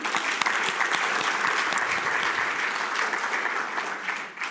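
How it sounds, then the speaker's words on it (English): Audience applause at the FEBA annual convention in 2022: sustained clapping from a sizeable crowd, steady and fairly loud throughout, fading slightly at the very end. "So maybe an applause to those who are following the streaming."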